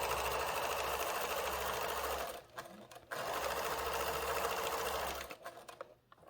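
A sewing machine stitching binding around a quilt, running in a steady whirring buzz with two brief pauses, close and alone.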